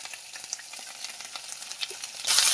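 Ginger-garlic paste and tomato frying in a pan for an egg curry with ridge gourd, a close, continuous crackling sizzle with light stirring scrapes, swelling to a loud hiss at the end as turmeric powder goes in.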